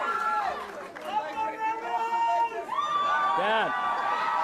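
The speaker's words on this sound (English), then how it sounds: "they were obviously happy that Labor had won, but AnAl didn't like them cheering too much" Crowd of political supporters cheering and chattering loudly after an election win, a dense hubbub of excited voices with shouts rising and falling throughout.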